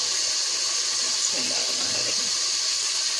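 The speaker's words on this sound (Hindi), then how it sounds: "अब यहाँ पे मैं थोड़ा सा पानी ऐड करूँगी इसके अंदर।" Water pours steadily into a pan of cooked tomato and onion masala while a ridge gourd sabzi is made, a continuous close hiss and splash lasting several seconds.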